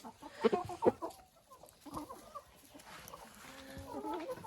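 A Lohmann Sandy hen, white with black feathers, clucks close by in a few short bursts, with softer clucking and other farmyard fowl sounds continuing quietly behind.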